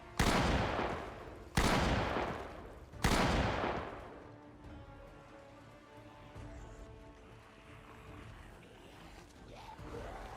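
Three loud shotgun blasts in the video game Project Zomboid, evenly spaced about a second and a half apart, each with a sharp crack and decaying tail, followed by quieter ambient noise.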